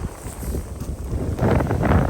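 Rough ocean on a beach: wind buffets the microphone as broad surf wash swells and grows louder toward the end, with no speech.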